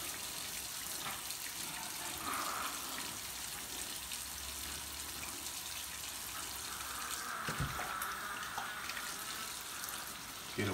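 A tap runs steadily to wet a face for shaving, a quiet, continuous splash and hiss of water into a sink with no pause.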